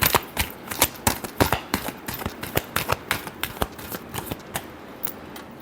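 Tarot cards are shuffled by hand in quick, crisp riffling bursts, a close, rhythmic flutter of papery slaps that gradually softens, with no voice over it.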